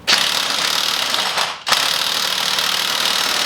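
A corded Milwaukee power tool runs in a loud, steady whir while loosening a stuck sprocket nut on a Softail M8 chain conversion. It cuts out briefly and then starts again at the same pitch, with no talk.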